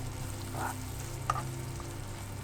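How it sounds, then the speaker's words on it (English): Onions sizzling and crackling in butter in a hot pan, a steady frying hiss with a couple of small pops, no talking. "our onions are sizzling"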